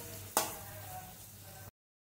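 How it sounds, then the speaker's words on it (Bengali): Amra in a pan over low flame, stirred with turmeric, cumin and chili powder: one sharp scrape or clatter near the start, then a steady soft sizzle that ends abruptly. "এবারে দিয়ে দেবো হলুদ পাউডার, জিরা পাউডার আর চিলি পাউডার। নাড়াচাড়া করে নেব।"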